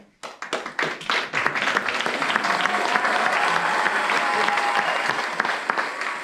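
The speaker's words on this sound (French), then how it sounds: "On applaudit." A few scattered claps quickly swell into full, sustained applause from a group, loud and close, staying dense and even for several seconds before easing slightly.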